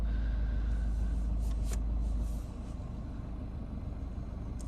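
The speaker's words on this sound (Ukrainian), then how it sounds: "Спробуємо завести. Автомобіль з півоберту у нас заводиться." A Peugeot 3008 with a 1.6 diesel and automatic gearbox idles with a steady low rumble after starting. The engine note stays loud at first, then settles a little lower and continues evenly. No voices are heard.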